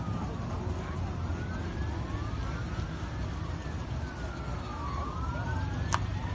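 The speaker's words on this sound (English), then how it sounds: "you hear that police chase?" Police car sirens wail somewhere in the distance during a police chase, their rising and falling tones sweeping over steady low rumbling from a car meet.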